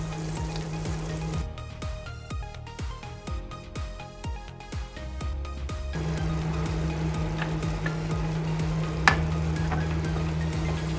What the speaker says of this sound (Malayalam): പനീറിട്ട് നന്നായിട്ട് ഇളക്കി കൊടുക്കാം.